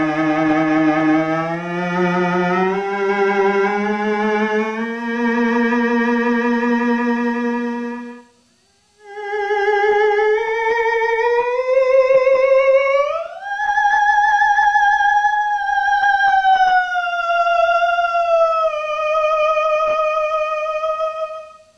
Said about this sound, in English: a vacuum tube theremin has a sound that you don't get from a transistor theremin